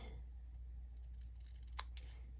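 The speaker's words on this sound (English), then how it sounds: "I'm going to snip off this end" Scissors cut through card paper, trimming off the end of a handmade greeting card with two quick, crisp snips near the end against a quiet background hum.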